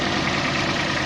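A Kubota 195 liquid-cooled three-cylinder diesel mini tractor with front loader idles close by, a steady, even rumble with no other sounds.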